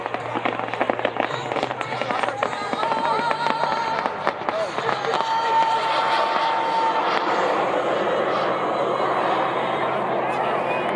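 Aircraft roar overhead at a night air show display in Stuart, a loud sustained engine drone with crackling bursts like fireworks, with people talking and a crowd murmuring underneath.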